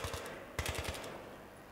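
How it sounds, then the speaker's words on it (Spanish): Gunfire in the video game Battlefield 3 sounds as two quick bursts of automatic shots, fairly distant and muffled, under a steady background hum. "En ocasiones... oigo disparos."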